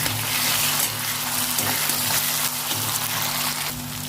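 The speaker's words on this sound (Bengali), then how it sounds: "আদা রসুনের পেস্টটা দিয়ে দেবো, দিয়ে ভেজে নেবো।" Ginger garlic paste frying with onions in an open pan, a loud continuous close sizzle over a low steady hum, with no voices.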